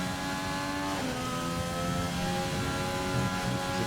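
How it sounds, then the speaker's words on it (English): A race car engine in a racing video game holds steady at the rev limiter around Autódromo Hermanos Rodríguez, Mexico, giving a loud, sustained, buzzing high-rev whine with a brief dip in pitch partway through. "he's right up on the rev limiter there"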